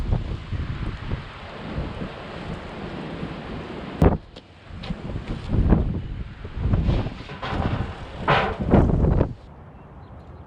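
Strong gusty wind roars across an open outdoor work area where a 2000 Honda CR-V is being serviced, surging in loud bursts against the microphone with a sharp knock partway through.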